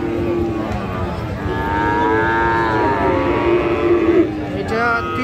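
A bull calf of Friesian or cross breed lows at a busy cattle market in Raniganj, its drawn-out moo rising over crowd noise and nearby talk.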